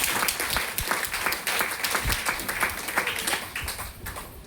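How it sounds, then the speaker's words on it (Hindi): Loud, sustained applause from an audience at a DXN branch meeting in Patna, many hands clapping densely and steadily throughout, close and alone without talk. "एक बार जोर से फिर से ताली हम देंगे"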